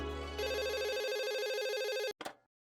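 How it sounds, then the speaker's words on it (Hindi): A telephone rings with a loud, close electronic trill, one long warbling burst followed by a short second burst before it stops, with no talking. "जल्दी से मिस्टर भिड़े को फोन दो"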